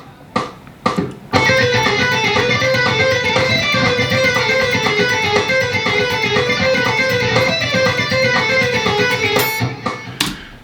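After a few scattered notes, an electric guitar plays a fast, continuous A harmonic minor scale run in a cycling neoclassical metal pattern with an exotic minor sound, ending with brief plucks.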